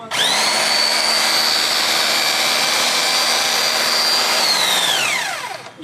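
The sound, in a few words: INGCO rotary hammer drill running in hammer mode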